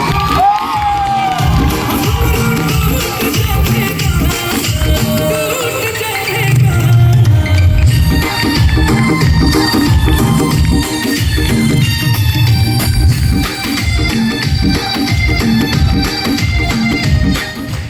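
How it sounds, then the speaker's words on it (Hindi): An audience at an open speech meeting in Gurgaon, Haryana breaks into loud, sustained cheering, whooping and shouting, a dense crowd roar that carries on without a break. "तो 2024 वाला ताली बजा के दिखाइए"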